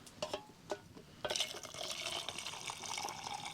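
Hot water poured at a campsite during a solo night of campfire cooking: a few drips and splashes, then a steady close pouring stream filling a pot or cup, with no one talking.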